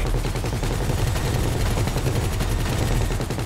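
Rapid, sustained chain gun fire from an attack helicopter in GTA Online, a dense, continuous stream of loud mechanical bursts with no pauses, heard alone without talk.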